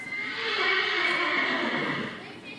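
A horse neighs loudly and close by, one sustained whinny that fills the whole moment with a bright, strained tone, with no clear talk over it.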